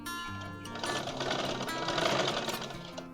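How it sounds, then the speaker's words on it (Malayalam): A sewing machine stitching a straight pant seam, a close continuous mechanical whir of rapid needle strokes that builds after a quieter start and runs steadily without speech. "ഒരു 1/2 ഇഞ്ചോ 1/4 ഇഞ്ചോ ഒക്കെ സീം അലവൻസ് കൊടുത്തുകൊണ്ട് നമുക്കിത് സ്റ്റിച്ച് ചെയ്യാം."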